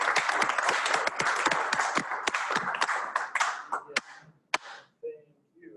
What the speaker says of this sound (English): Let's give a round of applause for Travis.